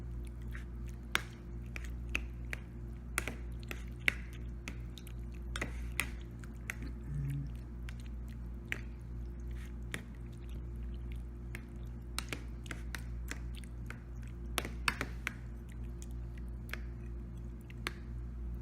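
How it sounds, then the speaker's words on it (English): A fish ceviche, either redfish or sheepshead, being stirred in a bowl, with soft wet squishing and clicking strokes that repeat irregularly, close by and fairly quiet over a steady low hum. "I'm going to stir this one up."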